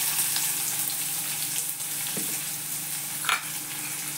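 Onion, cumin, green chilies and curry leaves fry in hot oil in a kadhai for upma. A dense, steady sizzle continues throughout, with a brief stir or scrape near the end and no talking.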